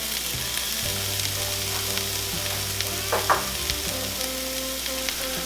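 Onions sizzle steadily in olive oil in a hot skillet for chicken fajitas. The frying hiss is close and continuous, with a brief clatter partway through and low background hum. No one talks.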